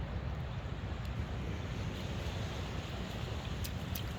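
Beach surf in the Philippines on a cool, cloudy morning, a continuous broadband wash of waves mixed with wind rumble on the microphone, steady and fairly quiet with no talking.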